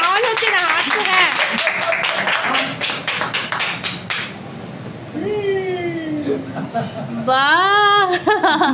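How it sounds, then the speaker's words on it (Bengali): Loud rhythmic hand clapping at a family birthday celebration, a quick run of sharp claps for about four seconds, followed by voices and chatter with a cat-like squeal. "জোরে জোরে হাত তালি"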